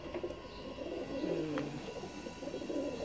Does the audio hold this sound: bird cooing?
yes